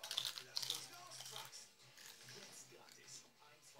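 Potato chips crunched in the mouth during a sibling eating challenge, giving a quick cluster of sharp, close crunches at the start that fade into softer chewing, with voices talking throughout.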